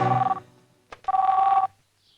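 A telephone rings in a dramatic film scene, giving two close, clear electronic ring bursts with a short gap between them, then silence.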